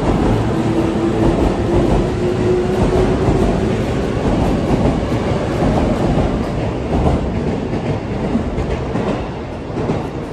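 A Sotetsu Line train pulls out of the station, a steady loud rumble with clickety-clack wheel rhythm and a faint thin squeal early on, rolling on continuously without voices.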